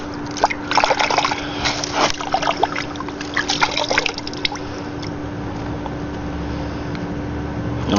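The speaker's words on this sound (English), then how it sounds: "Here's the bucket of water" Water sloshing and splashing in a bucket filled from a garden hose, irregular close splashes and trickles over the first few seconds, then settling into a quieter steady wash with a faint constant hum underneath.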